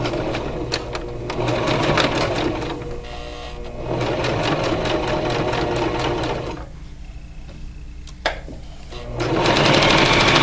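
Sewing machine stitching a hoodie side seam in bursts of rapid, close mechanical whirring, pausing briefly between runs and then speeding up again near the end.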